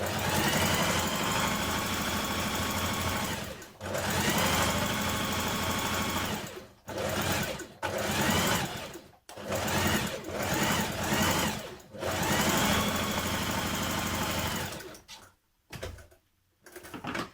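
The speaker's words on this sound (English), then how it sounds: "Next we're going to stay stitch around the top of our skirt pieces." A sewing machine runs in long steady bursts while stay stitching around the top edges of skirt pieces, loud and close, with brief pauses between runs and no talking.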